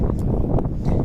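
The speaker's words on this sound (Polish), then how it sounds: "wiatr wieje." Wind buffets the microphone in loud, rumbling gusts, a low roaring noise filling the short stretch with no clear voices.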